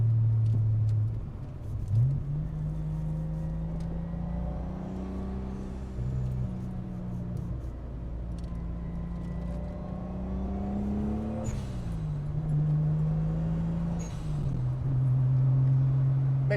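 A turbocharged custom car drives along, its engine heard from inside the cabin with a low steady drone that rises and falls as it revs and shifts, climbing and dipping repeatedly with no talk.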